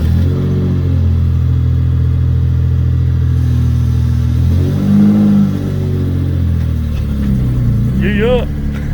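A Toyota Supra converted to a manual gearbox with junkyard parts drives along with a loud, steady engine drone that rises briefly toward the end, while people talk over it.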